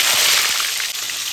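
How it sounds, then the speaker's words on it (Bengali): Cauliflower florets sizzle in hot oil left over from frying eggplant, a loud, steady crackling hiss that runs unbroken with no talk. "বেগুন ভাজা তেলের ভিতর ফুলকপিগুলোকে ভেজে নেব"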